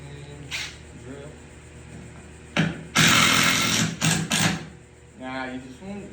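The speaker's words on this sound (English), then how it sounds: "Now you want to drill it where it's flush with the 2x4." A power drill bores into wood while a table is built from 2x4 lumber, running in a loud burst of about a second followed by two shorter bursts, with talk before and after.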